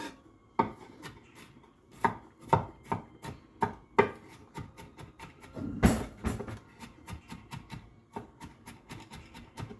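Garlic is chopped into small pieces on a cutting board, a close series of sharp knife knocks in an uneven rhythm, about two dozen strikes with a heavier clunk partway through, and no voices.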